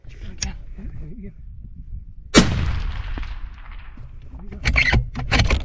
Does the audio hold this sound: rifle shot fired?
yes